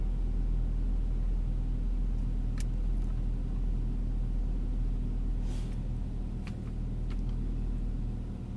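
A 2003 Saab 9-5 with a new engine idles steadily just after its first cold start, a constant low rumble heard up close with no talking, and a few faint clicks over it.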